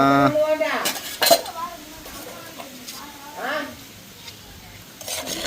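Metal clanks and a clattering of pot and lid ring out near the start as a cooking pot of beef curry is opened, followed by quieter clinks while a person speaks.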